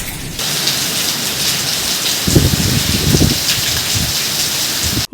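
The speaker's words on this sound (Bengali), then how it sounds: "হঠাৎ করে বৃষ্টি নেমেছে ভিজে গেছি" A sudden rain shower roars in, a steady loud wash of rainfall with heavier low rumbling bursts midway, close and continuous until an abrupt cutoff.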